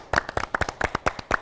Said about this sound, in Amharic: እሺ ጎበዞች፣ አጨብጭቡላቸው።